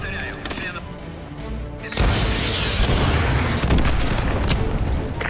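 An AGM missile strike detonates in Call of Duty Modern Warfare 2, with a quieter stretch giving way to a sudden loud, sustained blast and rumbling roar that lasts to the end.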